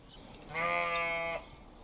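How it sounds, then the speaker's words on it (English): A single sheep bleats once, a clear wavering baa lasting under a second, fairly close against a quiet outdoor background. "the sheep are becoming quite vocal this afternoon"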